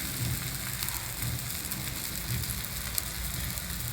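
Ragi methi adai frying in a little oil on a pan over a medium flame, a steady, dense sizzle and crackle holding at an even level throughout.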